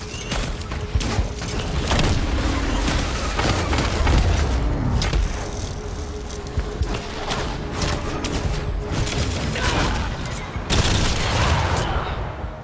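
Dense, sustained gunfire from a combat sequence in the VR game Iron Man VR, with rapid bursts, booms and heavy thuds running continuously throughout, loud and close.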